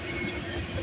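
A freight train on Norfolk Southern track rumbles past in a steady, broadband roar with low wheel-and-rail rumble, continuous and fairly close for under a second.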